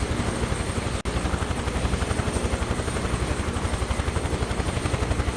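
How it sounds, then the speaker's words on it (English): A U.S. Army Huey helicopter in Microsoft Flight Simulator 2024 departs Grand Rapids, Michigan, its rotor thumping in a steady fast rhythm over a constant engine whine, loud and unbroken apart from a brief dropout. "U.S. Army Huey."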